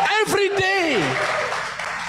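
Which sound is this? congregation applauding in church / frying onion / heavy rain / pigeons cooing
congregation applauding in church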